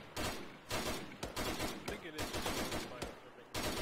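Rapid gunfire in Arma 3, with dense overlapping bursts of automatic rifle and machine-gun shots that continue almost without a break, loud and close, with a few short gaps between volleys.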